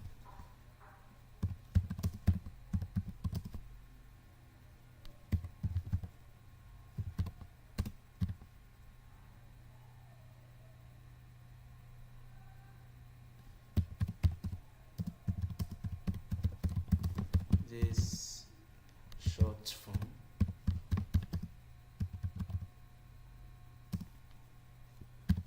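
Someone types on a computer keyboard in bursts of rapid, close key clicks separated by quiet pauses, with denser runs in the middle and toward the end.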